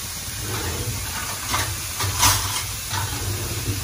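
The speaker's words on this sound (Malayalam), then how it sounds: "നമ്മളെ ചട്ടി നല്ലോണം ചൂടായി കഴിഞ്ഞു. അതിലേക്ക് നമ്മൾ എടുത്ത് വെച്ച ക്യാരറ്റും ക്യാബേജും തട്ടിയാണ്." Carrot and cabbage hit a very hot pan while making shawarma, a hissing, steamy sizzle that swells in a few bursts over a low rumble, no one speaking.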